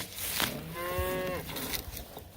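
A single cow, thirsty after a cattle drive, lets out a long, low moo close by on pasture, with faint outdoor rustling and scattered knocks around it.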